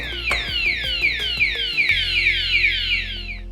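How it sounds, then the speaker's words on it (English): A 2021 Nitro Z21 bass boat's security alarm sounds loudly and close, a rapid repeating electronic siren that falls in pitch with each cycle, accompanied by steady low beeping tones. "that alarm system is going to go off."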